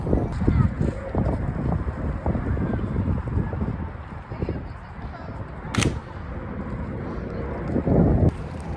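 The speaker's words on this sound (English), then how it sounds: "It has very rapidly gotten cold and windy" Gusty wind buffets the microphone in low rumbling bursts, with footsteps and outdoor movement mixed in throughout.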